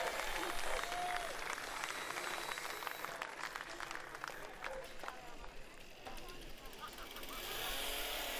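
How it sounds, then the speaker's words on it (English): Crowd applause at a STIHL Timbersports pro championship in New Zealand, sustained clapping and cheering filling the whole stretch, with an announcer's voice mixed in. "Let's keep that applause going."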